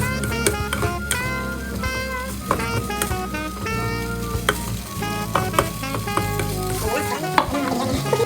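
Pasta ingredients with mushrooms sizzle and fry in a pan while being stirred, a continuous loud crackle broken by frequent scraping and clinking strokes of the utensil, close up and without talk.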